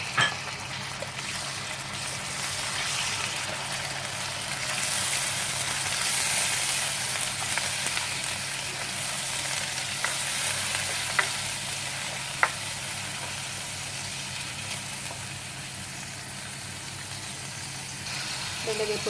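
Ground meat sautéing in a pan for a Filipino ginisang upo with mushroom and malunggay, giving a steady sizzle and hiss with a few sharp clicks from the stirring utensil and no talk.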